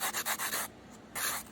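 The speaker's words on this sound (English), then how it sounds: "It's just a 120/180 sanding sponge" A 120/180 sanding sponge is rubbed over model track parts in quick back-and-forth strokes, making several close, soft, raspy swipes with a short pause before one last stroke.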